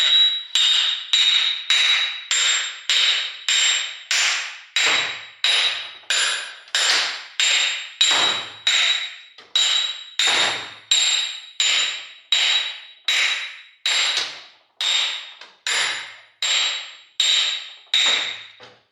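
Steady metal hammer strikes drive a part into a welded Mazda Miata rear differential during reassembly, around twenty sharp, ringing blows in an even rhythm, loud and close with brief decays between hits.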